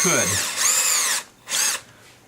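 Power drill boring through a piece of hard ebony wood held in the hand: two loud whining bursts, the motor rising and falling, with a brief quieter gap between them and near the end.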